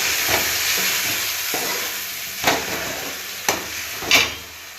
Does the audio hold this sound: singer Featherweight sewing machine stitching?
no